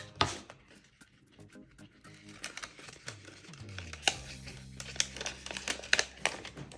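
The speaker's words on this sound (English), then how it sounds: "So we're going to go ahead and peel up a corner." A corner of a printed sticker sheet is peeled up by hand, sharp crinkling and ticking snaps of plastic film close by, growing busier toward the end, with no voices.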